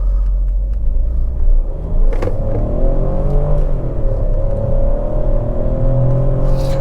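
A 1.3-litre turbo petrol engine in an MG Astor drones steadily and loud on a race track, with pitch rising and falling through gear changes as it accelerates, a constant low rumble underneath.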